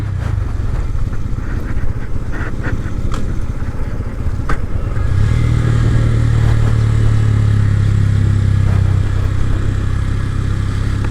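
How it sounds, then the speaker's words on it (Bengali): A motorcycle on a steep mountain road from Bandarban to Thanchi, descending on engine braking, rumbles close with clattering. Partway through, the engine note swells into a louder, steady low drone. "সম্পূর্ণ ইঞ্জিন ব্রেকে নামতে হবে, না হলে হবে না"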